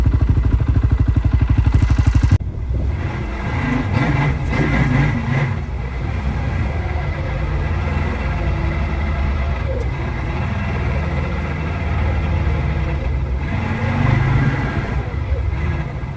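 Four-wheeler ATV engine droning steadily while riding, with a close, continuous rumble and rattling clatter from the mounted camera shaking throughout, after a brief louder rough burst at the start.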